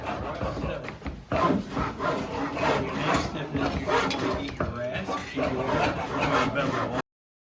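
A rasp scrapes the inside of a wooden bucket in a coopering class, making continuous rough, rhythmic rubbing strokes up close and fairly loud, with workshop noise around it.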